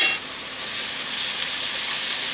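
A large amount of minced garlic sizzles in a hot pan for vodka pasta, a steady, close frying hiss that fills the short stretch, with a brief stir at the start and no talking.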